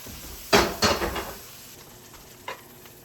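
Beef steak, a cheap tough cut, searing in a hot pan: a few loud clattering, sizzling bursts early on, then quieter frying hiss and one more brief clank near the end.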